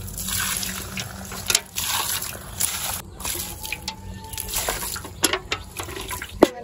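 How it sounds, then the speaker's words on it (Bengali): Water pours and trickles onto potted plants at a home, a close, uneven splashing and dribbling with small drips and pauses, alone without talk. "ওই গাছগুলোতে একটু জল দিয়ে নেবো।"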